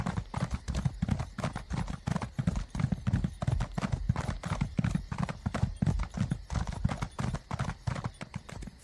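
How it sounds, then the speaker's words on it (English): Rapid hoofbeats of a galloping horse in the video game Elder Scrolls Online, a loud, close, continuous clip-clop rhythm with no talking over it. "Much faster. It's more like a regular horse now."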